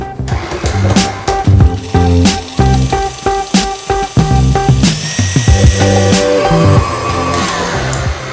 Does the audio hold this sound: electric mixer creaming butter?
yes